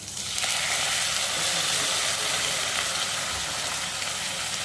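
Ground chutney paste hits hot oil with mustard seeds and sliced shallots, giving a loud, steady sizzle and hiss that flares at first and keeps spitting evenly.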